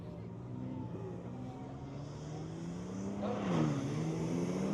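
A GAT M3 car warms up its tires at a track day, engine tones droning at a distance and then rising in pitch as it revs and picks up speed.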